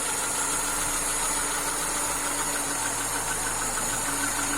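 A car engine idles on a fully rebuilt Solex carburetor for a VAZ 21051, giving a steady, even running hum with a light mechanical knock throughout, near and unbroken, with no talk.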